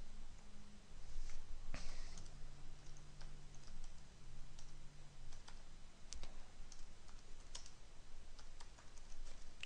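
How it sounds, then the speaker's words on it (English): Keys clatter on a computer keyboard in quick, irregular bursts of soft clicks, close and fairly quiet, with no one speaking. "here we're going to just type away"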